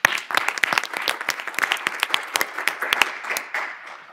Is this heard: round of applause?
yes